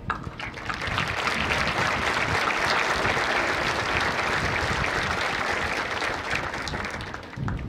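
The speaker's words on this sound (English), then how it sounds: "let's take a moment to give a round of applause and thank all the people who helped make it possible for you to be on this field today" A crowd on an outdoor field at Williamstown High School's Class of 2021 graduation bursts into steady, dense applause that holds at full strength for several seconds before tapering slightly at the end.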